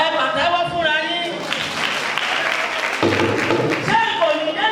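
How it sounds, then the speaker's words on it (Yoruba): Children's Day audience applauding at an event in Lagos, a broad wash of clapping that runs the whole time beneath loud, continuous speech from an amplified host, with music-like tonal bands rising and falling over it. "Ẹ pàtẹ́wọ́ fúnra yín."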